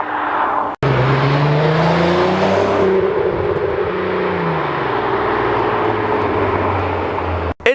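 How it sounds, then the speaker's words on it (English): A 2000s Volkswagen Golf Mk4 R32 engine with a Magnaflow cat-back exhaust revs loudly and close, its exhaust note rising and falling in pitch for several seconds before cutting off abruptly. "For just a cat back exhaust, it sounds really, really good."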